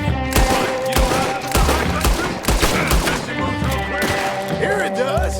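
Gunfight in the video game Red Dead Redemption 2: loud, rapid shots crack out in irregular bursts amid game music and effects, with voices speaking throughout.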